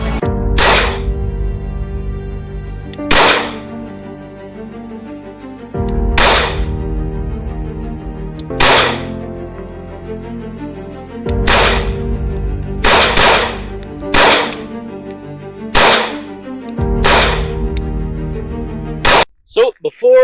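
A Glock 19X pistol fired at a target at the range, with sharp, loud shots in uneven bursts of single and paired reports separated by pauses, close to the listener, and a voice speaking between the shots.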